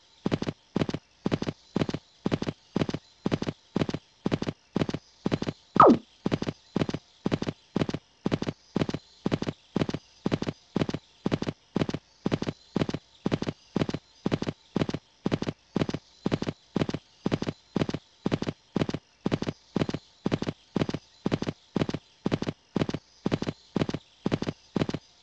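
Horse hooves trotting in the Riding Star dressage game, a long steady even rhythm of clip-clop beats, close and clear, continuing without pause.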